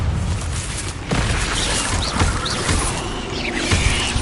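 Crackling roars and booming bursts of the Incendio fire spell in Hogwarts Legacy, repeated flaming blasts over a dense, loud wash of game sound effects with rising whooshing tones.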